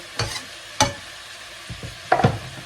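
Ingredients for nasi goreng being fried in a pan, heard as a few short, separate bursts of scraping and sizzle over a quiet background.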